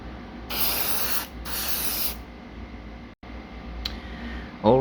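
Two steady hissing bursts of a chrome spray can coating a Traxxas RC car bumper, each about a second long, close up, followed by a click and quiet room noise.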